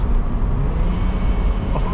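A 2021 Mini Cooper S Convertible exhaust rumbles through a downshift, a brief, loud, dense low roar of engine and road noise with no clear speech.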